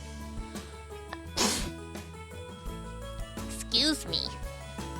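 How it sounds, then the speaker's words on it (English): A single human sneeze bursts out amid soft background music and game sounds, followed by a few lighter chimes; nearby voices talk around it. "Oh, sneeze coming."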